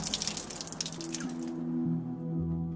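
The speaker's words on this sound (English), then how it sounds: "Take the spoon, run some water" Tap water runs onto a spoon in a short, close splash and patter, then settles into a faint tonal ringing and hum.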